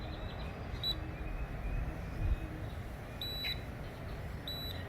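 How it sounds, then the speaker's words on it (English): A handheld multimeter set to AC volts beeps its high-voltage warning while probing a wall outlet, three short high-pitched bleeps spaced out over a steady background hum. "You hear my meter beeping"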